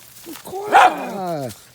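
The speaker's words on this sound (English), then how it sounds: "Hey, puppy dogs." Dogs bark and yip up close outdoors on a sunny day, a few sharp barks followed by a drawn-out whining yelp that slides downward, loud and alone.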